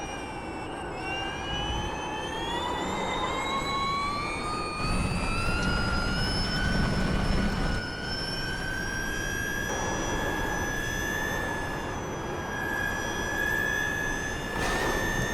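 Porsche Mission R electric race car in the iRacing sim, a loud continuous high-pitched motor whine climbing steadily in pitch under heavy revving, with no voices.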